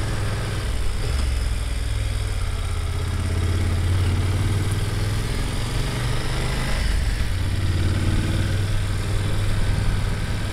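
A BMW F850GS motorcycle engine idles nearby on a mountain road with a steady low throb, accompanied by a constant broad rushing noise, and no talking.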